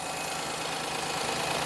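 A Perodua car engine idles with a steady, even hum and slight knocking vibration, close and constant throughout with no talking.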